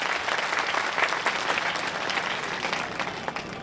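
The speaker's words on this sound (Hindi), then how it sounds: "हम सब जोरदार तालियों से उनका स्वागत करें, अभिनंदन करें।" Dense, steady applause from a crowd welcoming the chief minister at a public gathering in Jawar, filling the whole stretch at an even, moderately loud level with no talk over it.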